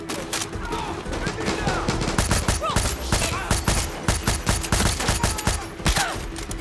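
Rapid bursts of gunfire crackle in Far Cry 6, loud and dense, firing in repeated rhythmic volleys throughout with a constant hum beneath.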